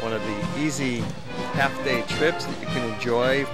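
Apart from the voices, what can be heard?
None of the usual background noises is heard.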